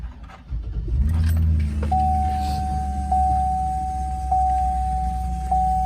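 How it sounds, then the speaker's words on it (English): A GMC Sierra 2500 pickup truck cranks and catches, its engine settling into a steady close idle while a repeated electronic chime pings at regular intervals over it. "I'm gonna start this up for you."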